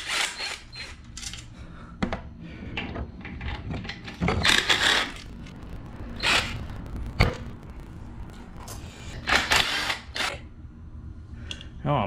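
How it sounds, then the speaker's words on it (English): Side cover coming off a Coleman CC100X 3 hp small engine, with scattered clicks, scrapes and metallic clinks of parts and tools over about twelve seconds, close up and moderately loud, with a faint voice in the background. "let's pull off the side cover"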